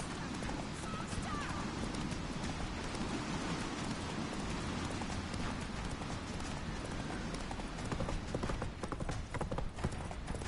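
Roach, Geralt's horse in The Witcher 3, galloping with dense, rapid hoofbeats under rain-like hiss and game ambience, fairly loud throughout.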